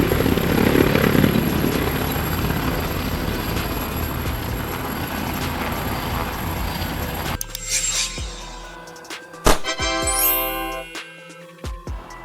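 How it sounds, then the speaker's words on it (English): An air ambulance helicopter used for emergency medical transport, its rotor and engine producing a loud, steady broadband roar for about seven seconds before cutting to a short, brighter jingling passage with chime-like tones. "Ambulance helicopter."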